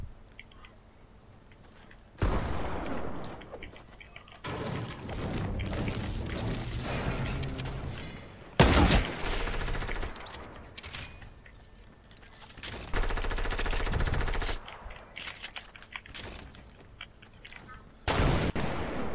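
Gunfire in the Fortnite video game, with bursts of shots and mechanical weapon sounds coming in several loud bursts over nearly twenty seconds.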